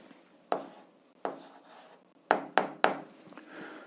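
A pen or pencil writes out an answer to an eighth-grade algebra exercise, giving a handful of short scratchy strokes, several in quick succession, close and fairly quiet with pauses between.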